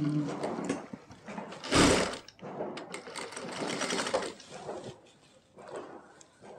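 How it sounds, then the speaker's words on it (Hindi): A sewing machine stitches along a palazzo's waist belt in steady runs with a brief louder burst near the start, the motor whirring close and alone, pausing and starting again. "ऐसे हम बेल्ट में सिलाई लगाना शुरू करेंगे"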